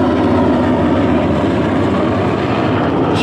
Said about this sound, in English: Could have nearly landed on tent, that guy, man. Helicopter. Coming back again.